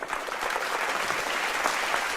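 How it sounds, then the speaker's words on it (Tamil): An audience claps steadily at a Tamil speaking event, a thick continuous wash of many hands close by, holding evenly throughout without talk. "அவங்களுக்கு ஒரு நல்ல கைத்தட்டல் கொடுத்துருங்க."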